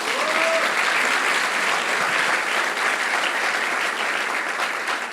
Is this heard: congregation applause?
yes